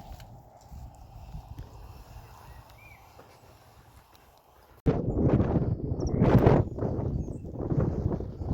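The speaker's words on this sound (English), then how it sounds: "Sure is windy up here today." Wind on an Iron Age hill fort summit called British Camp blows faintly at first, then a loud gust slams in and keeps roaring and buffeting the microphone.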